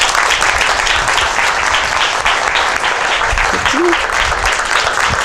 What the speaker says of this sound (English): Let's all give the girls a big round of applause.